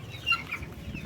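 Soft, low clucking from backyard free-range chickens, including six-month-old breeders and month-old chicks, faint and close, with a brief higher call rising midway through.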